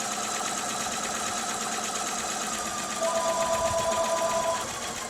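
Sewing machine stitching a strip onto a quilt block, a fast steady mechanical whir with a rapid needle rhythm that runs continuously and close, with no one speaking.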